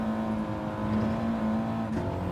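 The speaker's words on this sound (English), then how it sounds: "the wheel spin on FF cars is pretty bad now" Front-wheel-drive car in Gran Turismo 7 droning at a high steady engine pitch with a faint tire-scrub hiss, loud and continuous, no talk.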